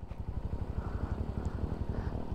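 A small motorcycle-tricycle engine putters steadily nearby with a rapid, pulsing low chug, on a remote road in Isabela, Philippines.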